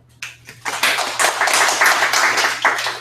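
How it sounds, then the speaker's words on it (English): Audience applause greeting a guest speaker from Seattle at a Go programming talk, a burst of many hands clapping that rises quickly and holds steady and fairly close for about three seconds. "Let's give him a applause"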